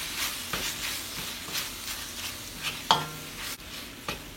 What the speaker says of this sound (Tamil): எல்லாம் சேர்ந்து ஒரு 5 மினிட்ஸ் வதங்க விட போகிறேன்.